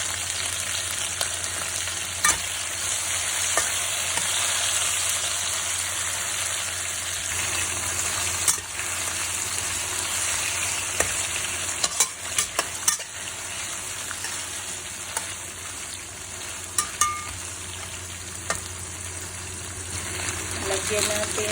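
Papaya and squid sizzling steadily in a hot pan, a continuous frying hiss with occasional stirring clicks and scrapes, close and fairly loud throughout.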